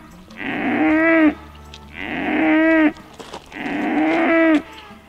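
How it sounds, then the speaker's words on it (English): A bull calf separated from its herd moos three times in long, loud, close calls, each drawn-out bellow followed by a short pause, with no talking. "we just had to separate our bull calf from the rest of the herd"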